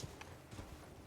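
Rhythmic hoof clip-clops of a galloping horse in the video game Elden Ring, fairly close, a short run of thuds with a faint background hum.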